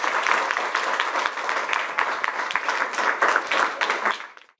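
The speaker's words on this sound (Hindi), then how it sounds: "बिल्कुल सही जवाब, जोरदार तालियां" Loud studio audience applause greets a correct answer on a Hindi TV quiz show, a dense steady wash of many clapping hands that carries on throughout and fades out at the end.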